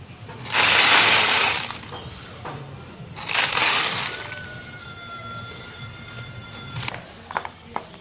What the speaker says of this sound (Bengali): বন্ধুরা, খাবারগুলোকে কৌটোর মধ্যে ভরে নিলাম